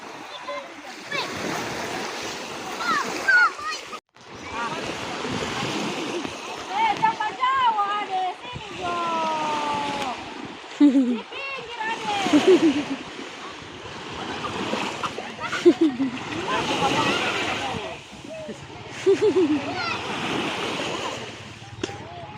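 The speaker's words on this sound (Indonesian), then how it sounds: "Ada ombak situ, ada ombak." Ocean waves wash onto a beach at Bolihutuo, Botumoito, Boalemo in Gorontalo, a steady surf roar with gusts of wind buffeting the microphone, while people chatter and call out over the water throughout.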